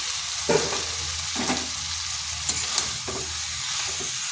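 Pre-fried pointed gourd, potato and soybean chunks are stirred into spiced oil in a sizzling wok, a steady fry crackle with regular scraping strokes of a spatula, no voices.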